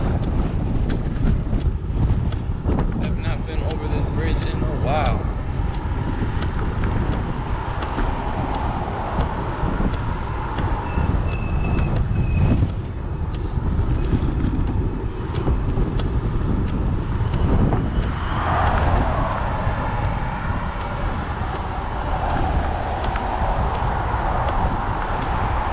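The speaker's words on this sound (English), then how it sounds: "A lot of wind today, as y'all can hear it." Strong wind roars into the microphone while cycling across the Belleaire Bridge, a loud, continuous buffeting rush that never lets up, with traffic-like rumble underneath and no talking.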